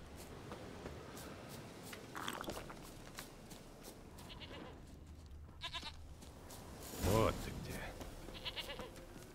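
One loud, wavering goat bleat sounds near the end of a stretch of quiet ambience and soft rustling in The Witcher 3, with faint speech earlier on.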